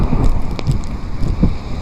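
Rain and wind buffet a microphone during a motorcycle ride on the Kaybiang loop, a steady rushing roar with a few soft thumps, close and fairly loud with no talking.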